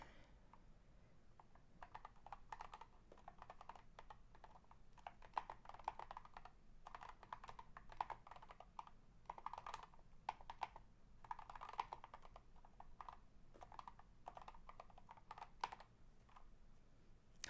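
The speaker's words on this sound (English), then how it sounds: "hopefully you guys can hear the ASMR from my keyboard" Steady typing on a computer keyboard, a continuous run of crisp, close key clicks with uneven rhythm and occasional louder strokes, with no voices.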